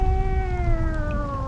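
A tomcat gives one drawn-out, whining meow with a slowly falling pitch, loud and close, over a faint low background rumble.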